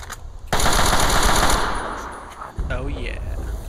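Rapid automatic rifle fire in Fallout 3: Operation Anchorage, a loud sustained burst followed by a second volley, with brief game sound effects.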